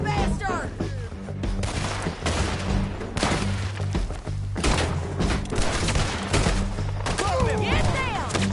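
Dense, rapid gunfire and booms from a Red Dead Redemption 2 shootout crackle continuously over a steady backing score, with shouted voices mixed in.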